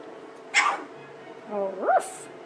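Two-week-old British Labrador puppies whimpering, with a short sharp squeak followed by a rising, wavering whine, close and fairly clear, ending in a brief breathy hiss.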